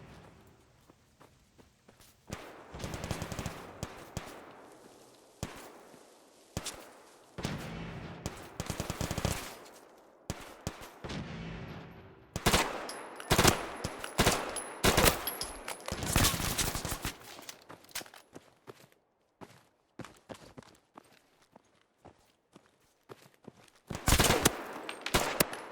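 Repeated bursts of automatic gunfire and single shots in the Fallout 4 Tarkov modlist, loud and close, with rapid volleys separated by brief pauses and what sound like footsteps between.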